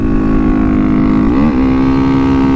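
A Kawasaki Z125 motorcycle fitted with a big bore kit drones loud and close at a steady pitch while riding, with a brief rise and dip of revs in the middle.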